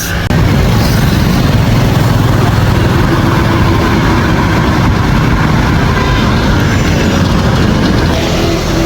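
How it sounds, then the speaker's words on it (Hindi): A motorbike engine runs steadily at close range, a dense, even rumble with broadband wind-like roar and no pauses. "अब बाइक चलाऊंगा, थोड़ा हवा लगेगा तो नॉर्मल हो जाएगा।"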